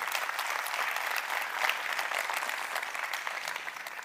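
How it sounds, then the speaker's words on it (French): An audience at a French roundtable event applauding four panel participants, a sustained crowd clapping that stays dense throughout and tapers slightly toward the end, with no speech. "vous avez la possibilité d'applaudir ces 4 participants pour cette table ronde"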